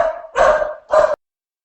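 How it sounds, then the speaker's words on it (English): A pet dog barks close to the microphone in a home setting, two sharp loud barks in quick succession, the first preceded by a short whine, then silence. "Now my dog is barking, I'm sorry."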